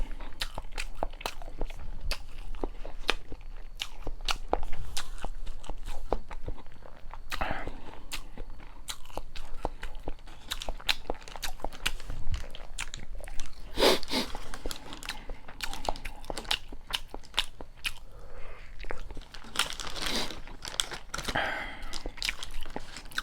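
Crunchy bites and chewing of convenience store fried chicken drumsticks, close and loud, with rustling of packaging and irregular bursts throughout, no talking.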